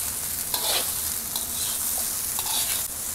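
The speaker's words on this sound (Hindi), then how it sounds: "just to to three minutes के लिए हम इसे ऐसे चलाते हुए फ्राई करेंगे जल्दी जल्दी" Vegetable fried rice being stir-fried quickly in a pan, restaurant Indo-Chinese style, with loud continuous sizzling and scraping stirring strokes close by.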